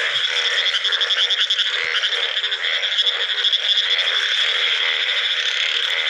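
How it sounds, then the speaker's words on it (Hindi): A dense chorus of frogs croaking continuously in village fields during heavy rain, overlapping rattling calls forming a steady, loud wall of sound with no voices. "बहुत ही आवाज़ा आ रही हैं मेंढक दी"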